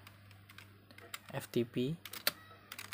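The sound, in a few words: typing a command on a laptop keyboard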